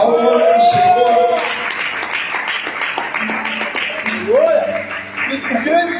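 A church congregation claps along during a worship service, a scattered rattle of hands running beneath a loud, sustained preaching or singing voice that dominates throughout.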